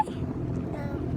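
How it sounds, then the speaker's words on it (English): Sailboat motoring under its engine on open water after the wind has died, a steady low rumble mixed with wind buffeting the microphone, continuous and fairly loud for the short moment. "So the wind's died down again, so we've just got the motor on"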